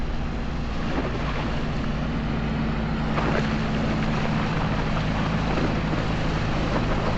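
A heavily weighted 2008 Malibu Wake Setter 23LSV wakeboard boat's engine drones low and steady under strong load, with strong wind rushing over the microphone and water splashing throughout.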